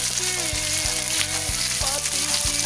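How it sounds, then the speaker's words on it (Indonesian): Garlic or onion drops into hot oil in a home kitchen preparing village-style sambal, giving a steady close sizzle with a few soft stirring knocks. "Sekarang minyak pun sudah panas, jadi kita masukkan dulu bawang putih atau bawang besar"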